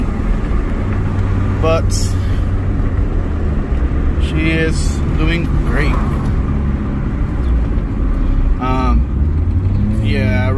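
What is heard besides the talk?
Acura NSX engine running while driving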